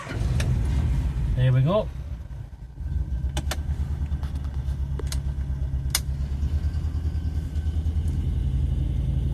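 A 1967 Ford Zephyr V4 classic car cranks briefly, catches and settles into a steady low rumbling idle close by, with a short spoken remark near the start.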